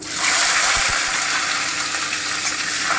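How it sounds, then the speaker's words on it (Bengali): Potatoes browning in hot oil in a pan give a close, constant sizzling hiss, with a couple of faint knocks early on. "আলুটা একটু ব্রাউন করে ভেজে নিচ্ছি"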